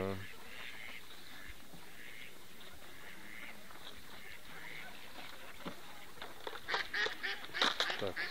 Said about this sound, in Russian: у нас уточка